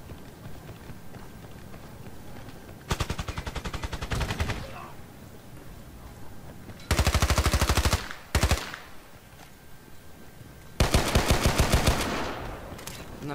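MP5 submachine gun fire in the shooter game Battlefield Play4Free, three loud rapid automatic bursts of a second or more each, with a short burst between them, over faint background game noise and no talking.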